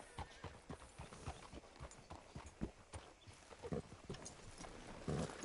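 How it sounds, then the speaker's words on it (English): A horse in a PS4 video game clip-clops along with rhythmic hoof falls, moderately faint and steady, alongside occasional soft thuds, with no talking. "Hitch your horse up here."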